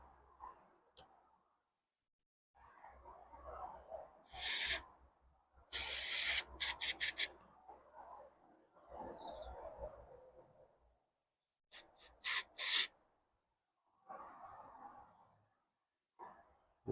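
A fuel injector on a budget cleaning kit fires short bursts of spray during a cleaning test, heard as a few loud hissing pulses and rapid clustered spurts separated by quieter rubbing and handling noise.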